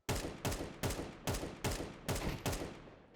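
Rapid bursts of gunfire in a first-person shooter video game, eight evenly spaced loud shots in quick rhythm, each with a short decaying tail, close and without talk.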